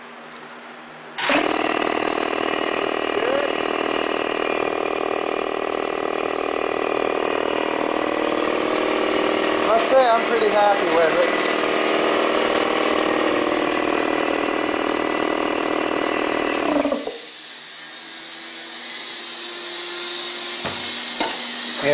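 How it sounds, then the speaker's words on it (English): A Harbor Freight air compressor starts abruptly and runs as a loud, steady motor whine with a high pitched hum, then cuts off near the end, with someone talking briefly over it. "Harbor Freight air compressor's been holding up really well."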